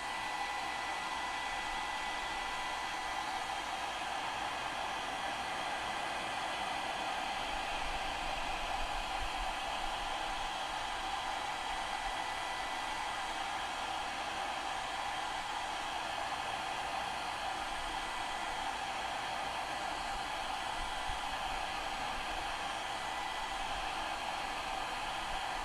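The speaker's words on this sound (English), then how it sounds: "So you can use a heat gun" A heat gun blowing on a glass block craft, a steady unbroken airy roar at close range that holds at an even level the whole way through.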